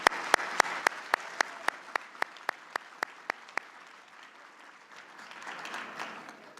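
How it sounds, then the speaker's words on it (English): Luncheon audience at a U.S. Conference of Mayors winter meeting applauding a sponsor, with a few loud, sharp near claps over a soft wash of clapping that gradually thins and fades. "Please give Siemens a big round of applause."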